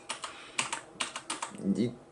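Typing on a Das Keyboard mechanical keyboard with Cherry MX switches: a run of crisp, close key clicks in an uneven rhythm, about a dozen strokes, with a brief murmur of voice near the end.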